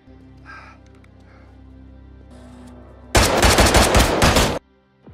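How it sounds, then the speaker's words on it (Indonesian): Gunshots in a film scene, a rapid loud burst of many closely spaced shots lasting over a second, following quieter ambience with faint bird-like calls, then stopping abruptly. "Nick terpaksa melepaskan tembakan untuk menghabisinya."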